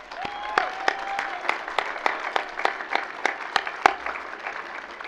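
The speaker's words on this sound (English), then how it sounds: "Would you give a round of applause for Carol and her family?" An audience at a university graduation ceremony gives a round of applause, with a sparse scatter of individual claps and a faint tone underneath.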